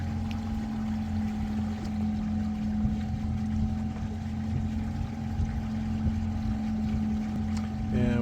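An electric boat cruises at about 4.5 knots on 800 watts near North Haven Island, giving a steady, continuous motor hum with water and wind noise throughout, close and fairly loud.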